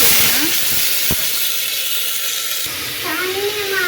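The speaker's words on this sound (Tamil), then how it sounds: "இப்போ வெங்காயம் நல்லா வதங்கட்டும்" Onions sautéing in a pan for mushroom gravy make a loud, hissing sizzle up close, with a brief knock early on and a voice talking near the end.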